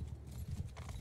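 Cavalry horse hooves in the video game Mount and Blade 2 Bannerlord, a steady run of clip-clop hoofbeats thudding close and fairly loud, with no talking over them.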